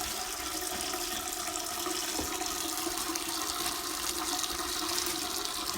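Water streams steadily from a sink faucet during handwashing, a continuous hissing, splashing flow close by with no talking.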